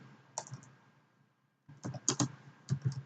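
Typing on a computer keyboard: an isolated keystroke, a short pause, then a denser burst of close clicks with a few louder taps, no voices.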